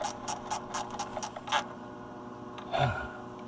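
A ratchet tightens a fuel pump fitting on a C65 Chevrolet truck, clicking in a quick run of close, sharp strokes, then a short pause and a final louder turn with a creaky mechanical grind.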